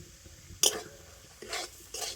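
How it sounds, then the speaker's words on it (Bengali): Semolina stirred and frying in ghee in a pan over low heat, with soft sizzling and a few distinct scraping strokes of a spoon against the pan, quiet and close. "ঘিয়ের সাথে সুজিটা কিন্তু ভালো করে ভেজে নিতে হবে"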